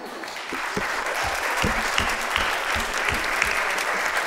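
An audience gives sustained applause for Danila at a retrospective tribute, dense clapping filling the room with some louder close claps.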